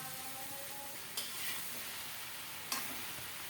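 Spinach with turmeric sizzles steadily in a hot pan while a spoon scrapes and stirs it twice, a constant frying hiss close by with no voices.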